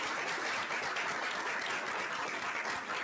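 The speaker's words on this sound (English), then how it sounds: "I'd just like to give them a big round of applause because that is incredible." Steady applause fills a governing board meeting room, honoring a school's music group for a state title, with dense continuous clapping from a crowd heard throughout at moderate level and no talk over it.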